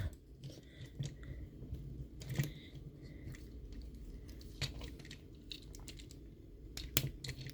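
Plastic Optimus Prime figure from the Transformers Age of Extinction Studio Series being folded and twisted by hand, giving a run of small, close clicks and snaps with a few sharper ratchety clacks.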